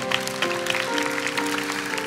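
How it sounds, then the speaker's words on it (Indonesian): Church congregation applauding during a sermon, a steady wash of clapping from many hands lasting a couple of seconds, with sustained tones from music or a keyboard beneath it. "Yang percaya kasih tepuk tangan tuh Tuhan."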